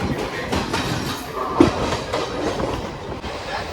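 A passenger train on the Digha to Kolkata line rolls along in rain, its wheels giving a continuous rumble with faint rhythmic clatter and one sharper knock midway, heard from inside an empty coach.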